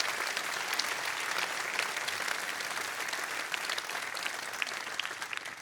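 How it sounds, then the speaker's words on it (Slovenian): Audience applause at a summer night concert by a wind band, a dense, sustained clatter of many hands clapping evenly from start to finish. "Lahko še en aplavz lahko."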